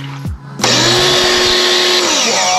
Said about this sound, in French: pour voir si ce canon à mousse marche aussi avec